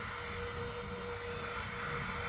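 Steady engine drone of an airplane in flight in the Roblox Pilot Training Flight Simulator game, a continuous even hum without talk.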